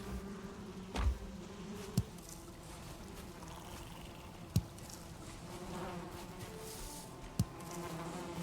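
Bees buzzing steadily around a beehive in the video game Valheim, a continuous insect drone at moderate level with a few sharp clicks and thumps scattered throughout.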